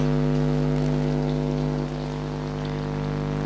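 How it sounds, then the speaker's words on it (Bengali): Taro pieces frying in oil for a rohu fish curry, a dense, even sizzle with a steady hum underneath, continuous and close throughout. "কচুটাকে খুব ভালোভাবে লাল করে ভেজে নিতে হবে"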